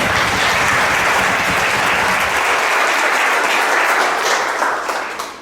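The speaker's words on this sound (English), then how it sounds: "Another round of applause." Loud, sustained applause from a large audience at a Glenridge blues reunion event, a dense continuous roar of clapping that holds steady before tapering slightly at the close.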